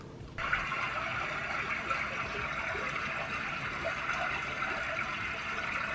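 A shower switches on abruptly and runs with a steady, even hiss of falling water, close and continuous after the opening moment.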